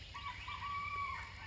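A rooster crows in an African Yoruba village, one drawn-out, wavering cock-a-doodle-doo rising over a soft background of clucking fowl, moderately close and with no talking.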